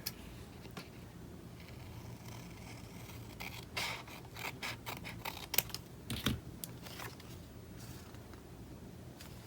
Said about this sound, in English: Now this, I will use a scissor to cut off the bottom.